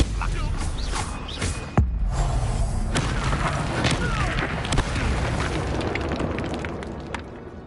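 A Confringo explosion spell goes off in Hogwarts Legacy, a sharp blast followed by a dense, rumbling boom and crackling debris that lingers loud and close.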